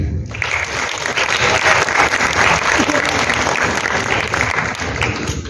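Loud, sustained applause from a large audience greeting Adnan Siddiqui at a tribute event for Sultana Siddiqui, a thick continuous roar of clapping close and steady from start to finish.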